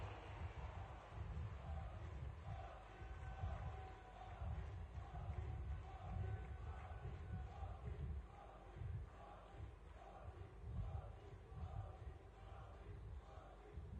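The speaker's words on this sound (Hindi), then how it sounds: "जोरदार तालियां हाथ ऊपर करके माननीय प्रधानमंत्री जी के लिए" A large crowd at a public event for India's Prime Minister roars and claps with a steady, dense wash of noise that holds for the whole stretch, heard from a distance and fairly faint.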